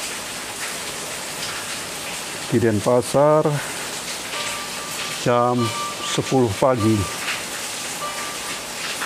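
Steady rain pattering outside in Denpasar on a January morning, a constant hiss and patter running through the whole stretch beneath someone speaking twice.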